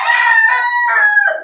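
A rooster kept among about two dozen laying hens crows loudly and close by in one long cock-a-doodle-doo of several rising and falling segments, with no other sound around it.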